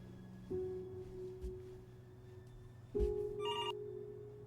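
A telephone rings inside the video game Before Your Eyes: steady low electronic tones with a brief bright bell-like ring near the end, moderately loud and without talk.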